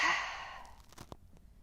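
A single forceful exhale during a yoga flow, close and breathy, that begins loud and trails off over about a second.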